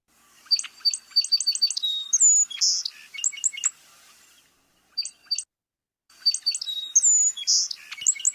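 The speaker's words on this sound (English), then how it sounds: "Song sparrows are common and they sing well into the summer." A song sparrow sings alone and close: several phrases of quick, squeaky introductory notes that run into a twitter and end in a trill, with short pauses between songs.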